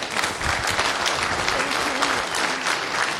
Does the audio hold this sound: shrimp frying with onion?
no